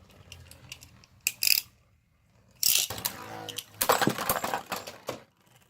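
Beyblade tops are launched with a ripcord launcher in a few quick zipping pulls, each followed by a burst of rattling and spinning clatter against the stadium. The sounds are close and fairly loud, with pauses between them.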